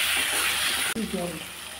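Water pours into a pan of potato curry, a steady splashing gush for about a second that stops abruptly, followed by faint sizzling and a brief voice.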